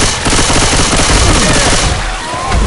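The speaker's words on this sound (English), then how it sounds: "Shooting in the legs." Loud, sustained gunfire from the zombie shooter Left 4 Dead 2, rapid automatic bursts packed together with little pause, close and dominant throughout.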